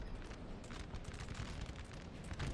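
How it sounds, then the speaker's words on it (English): Continuous rumbling booms of artillery fire in a Napoleonic-era battle in the video game Napoleon: Total War, heavy and dense throughout without pause. "Artillery from France going to make the odds very even here."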